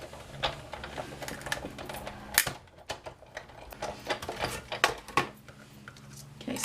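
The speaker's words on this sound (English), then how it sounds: "And then we're just going to go ahead and cut that." Whisper White cardstock is cut with a string of sharp clicks and snips in a crafting session, irregular and fairly quiet, with no voices.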